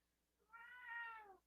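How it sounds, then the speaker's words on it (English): A house cat lets out a single drawn-out meow, rising and then falling, quiet and somewhat distant with no talk over it. "you guys can hear my cat meowing in the background."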